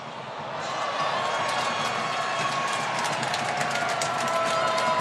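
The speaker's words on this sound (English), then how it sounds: "we heard some cheering going on right below us" Baseball crowd at an Angels–Athletics game in Oakland cheering below, a broad steady roar with scattered shouts and whistles that swells after the first second and holds, slightly distant.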